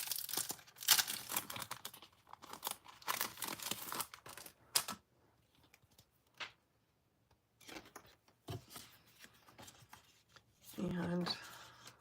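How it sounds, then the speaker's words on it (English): Papercraft card stock is fed through an embossing machine in a 3D embossing folder, giving bursts of crinkly, crunchy handling and cranking noise broken by short pauses and a few quiet moments. "I'm going to emboss this whole piece with the Eyelet 3D embossing folder."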